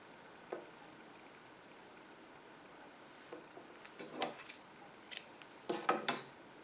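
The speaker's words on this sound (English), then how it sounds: "then just cut your previous colored yarn" Scissors cut through yarn during a crochet project, a few quiet, close snips clustered in the second half after a faint click early on.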